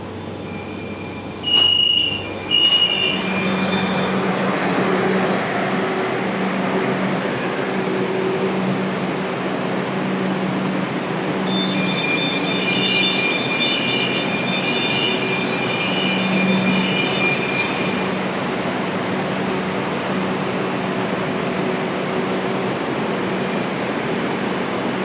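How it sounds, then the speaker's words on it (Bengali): A Kolkata metro train on the Joka–Majherhat line pulls away toward Joka, a steady close rumble of wheels and car hum with faint high whining tones drifting in and out for a long stretch. "এই ট্রেনটি এখন চলে যাচ্ছে জোকার দিকে।"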